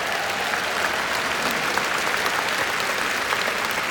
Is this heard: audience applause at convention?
yes